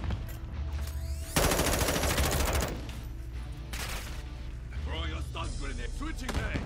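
Gunfire in Call of Duty: two loud sustained bursts of rapid automatic fire with softer shots between them, against busy game sounds and what may be voices.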